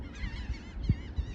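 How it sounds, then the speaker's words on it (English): Seagulls call over a farm field with corn after frost, a cluster of nasal honking squawks rising and falling, moderately near, with faint wind and low rumbles beneath and no talking. "we have more seagulls this year than we usually have"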